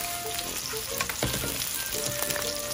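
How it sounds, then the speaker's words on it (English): Sliced onion and freshly chopped garlic sauté in a pan over medium heat with a close, steady sizzle and a few stirring scrapes throughout. "add 1/2 onion slice, and then 4 cloves of garlic chopped fresh, and then you have to stir until the onions and the garlic have"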